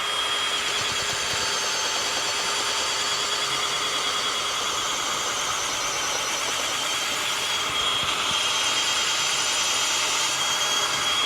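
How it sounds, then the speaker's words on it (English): A steady, loud motorized whine of a power drill runs continuously throughout, with a grinding edge as it bores into a wooden tree stump. "So all I'm going to do is just drill 1 or 2 holes here"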